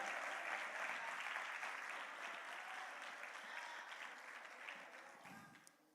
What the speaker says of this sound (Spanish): Dale el aplauso fuerte al Señor.